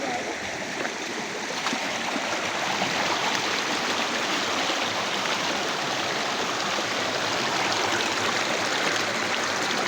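A clear river flows near an old bridge at Ghanpokhar, making a steady, full rushing babble of water that holds constant and fairly close for the whole stretch, with no clear talk over it.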